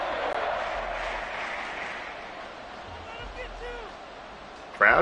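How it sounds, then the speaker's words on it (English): A stadium crowd in a Madden football game murmurs and cheers as a broad, steady roar beneath a commentator's voice. "Crowd comes alive a little bit"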